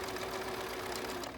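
Sewing machine running steadily while back stitching over elastic on a cloth face mask, a continuous mechanical whir with a steady hum, close and unbroken with no talk.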